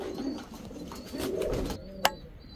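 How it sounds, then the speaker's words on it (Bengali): Giribaj pigeons coo in low, throaty, repeated phrases close by, with a brief sharp peep near the end and no voices. "এই হচ্ছে আরেক জোড়া সুন্দরী গিরিবাজ কবুতর"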